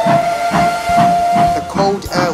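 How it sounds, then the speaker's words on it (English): A King-class steam locomotive in snowy cold air sounds a loud, sustained steam whistle tone, accompanied by rhythmic hissing chuffs and clanking close by. "Cold air was suddenly interrupted by a very loud King-class whistle"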